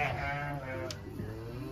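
A single drawn-out ram bleat with a wavering tone, moderately distant, heard over steady background noise.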